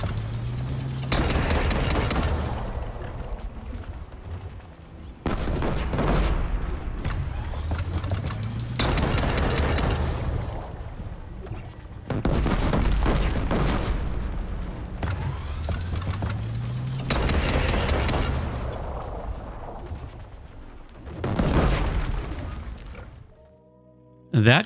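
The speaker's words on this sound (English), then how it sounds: "You can either launch the bombs individually or charge up to unleash a volley of 6." Repeated volleys of bomb blasts from the Dreadwing machine's bomb launcher in Horizon Forbidden West, arriving as several loud, booming bursts separated by short gaps, each carrying rumbling tails and mechanical whirring.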